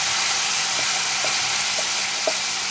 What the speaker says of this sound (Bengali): আমি কলার খোসাটা ঢেলে দিলাম।